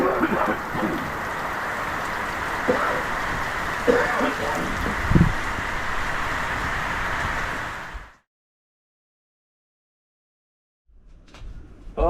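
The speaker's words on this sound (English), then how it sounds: "now it's pouring rain" Heavy rain pours down in Fiji in a dense, steady hiss for several seconds, then cuts off abruptly into silence before faint sound returns.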